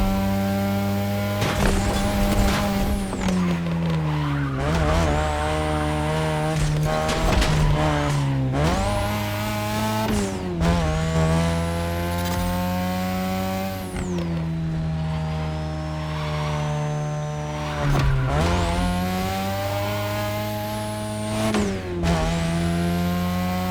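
Race cars tear through The Crew Motorfest with repeated rising and falling engine revs, gear shifts and sharp tire squeals through corners, loud and continuous with no talking.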